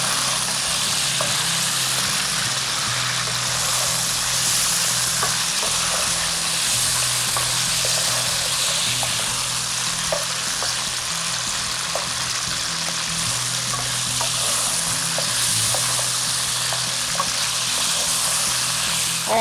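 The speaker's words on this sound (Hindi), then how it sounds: "हम इसको सॉल्ट के साथ चिकन को फ्राई कर रहे हैं" Chicken fries with salt in a steel karahi, giving a steady, loud sizzle with light crackling pops and occasional stirring scrapes, continuing close up without any talk.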